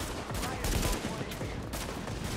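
Sniper gunfire in The Division on Xbox One, a dense run of sharp cracks and echoing reports under continuous game noise, loud and close throughout.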